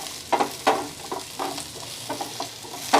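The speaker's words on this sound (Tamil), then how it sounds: "இப்போ ஆனியன் சேர்க்குறேன்" Onion fries in a pan for chilli idly fry, with close sizzling under repeated scraping stirs of a spoon, several distinct strokes over a few seconds, no talking.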